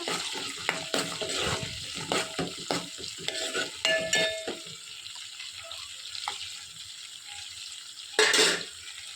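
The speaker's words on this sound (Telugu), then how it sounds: "ముందుగా రొయ్యలను అయితే వేపుకోవాలి దోరగా." Dried prawns frying in a pan for a curry: soft sizzling with scraping and stirring sounds, moderately quiet and close, with a brief louder burst near the end and no talk.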